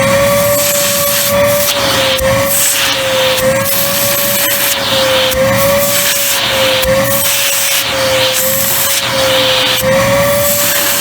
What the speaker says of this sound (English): And here's the suction power of Oreck.